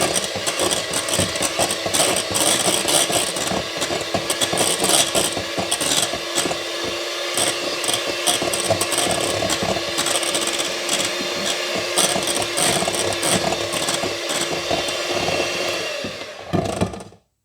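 An electric mixer whisks cream cheese in a bowl, a steady, loud motorized whir with rattling texture that runs continuously for well over a quarter minute before cutting off at the end.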